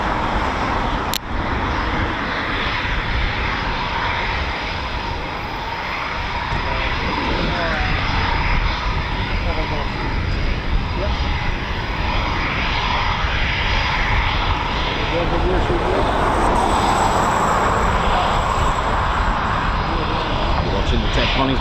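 Eurofighter Typhoon FGR4 jet at RAF Coningsby, heard as a loud, steady, broad roar of aircraft engine noise that holds for the whole stretch, with a slight swell toward the end and no gap in the noise.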